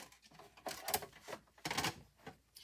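Paper is run through a die cutting machine for a scrapbook layout, giving several short bursts of close, rattling mechanical clatter separated by brief pauses.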